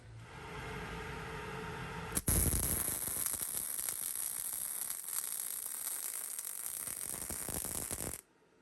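Welding lays a bead on metal outboard motor artwork. After a quiet hum, a steady crackling sizzle begins abruptly, runs for about six seconds close to the mic, then cuts off.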